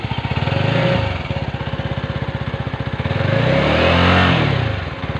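A heavy motorcycle engine in China idles with a fast, even pulsing beat, revving up briefly twice in short swells before settling back to its steady close-up chug.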